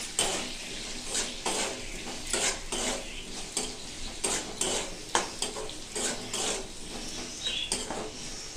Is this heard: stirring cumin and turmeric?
yes